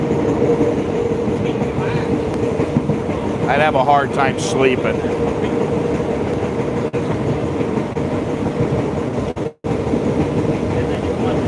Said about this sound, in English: Every day you got trains going by making noise.